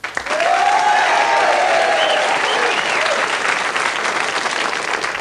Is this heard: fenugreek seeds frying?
no